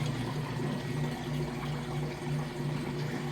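Maytag washing machine draining water, a steady low pump hum with a continuous watery gurgle, close and moderately quiet with no talking.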